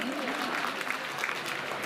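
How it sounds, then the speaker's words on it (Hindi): A poetry-recitation audience at a mushaira keeps up steady, dense applause for nearly two seconds, with voices mixed into the clapping. "एक मरतबा जोरदार तालियां इस कामयाब मुशारे के लिए बजा दें।"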